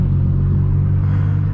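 Loud, steady exhaust rumble from a straight-piped BMW M4 F82, a deep continuous drone heard up close with no distinct revs.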